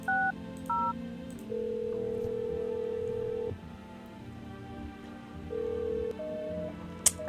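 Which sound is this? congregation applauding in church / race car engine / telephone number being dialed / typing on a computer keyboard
telephone number being dialed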